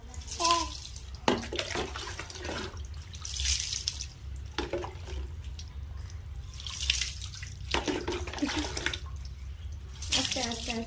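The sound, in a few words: water poured while a child bathes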